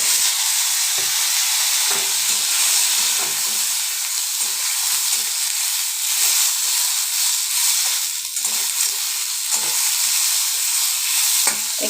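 Tamarind and Indian olives hit hot oil in a wok, giving a loud, steady, hissing sizzle that runs on without pause, with faint stirring clicks underneath.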